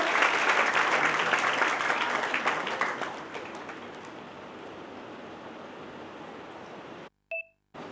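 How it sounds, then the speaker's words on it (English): A conference audience applauds in a hall: a dense round of clapping that gradually thins and fades, followed by a brief pair of electronic beeps after a moment of silence. "Please give him a huge round of applause."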